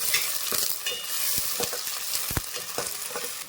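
Green chillies, curry leaves and coriander fry in a pan for chicken curry, giving a continuous close sizzle broken by scraping spoon strokes.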